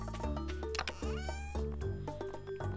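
A cat meows repeatedly inside the Stardew Valley farming game, several clear tonal meows and drawn-out calls in close succession over background game music.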